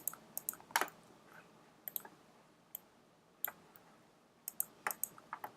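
Typing on a computer keyboard while entering survey questions, irregular bursts of quiet key clicks with short pauses between, close and faint.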